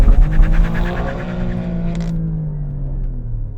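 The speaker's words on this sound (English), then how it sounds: "Best experience when launching is to just let it do it in drive, because it rips through that first gear" Alfa Romeo Stelvio QV in sport mode launching hard from a brake-boosted standstill, its engine roaring loud and close as it rips through first gear, the snarling note rising steadily before easing off.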